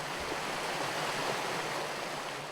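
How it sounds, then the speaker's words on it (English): North Creek, a mountain stream in the Jefferson National Forest, gurgles steadily in the fall, a constant soft wash of running water with no voices. "At this elevation in the fall, it's more of a gurgling brook than a bold creek."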